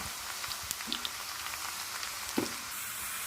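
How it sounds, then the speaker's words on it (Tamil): Sliced garlic frying in oil in a pan, a soft, steady sizzle with faint scattered crackles and a couple of small taps, heard close and quiet with no talk. "பூண்டை வந்து வறுத்துக்கலாம்"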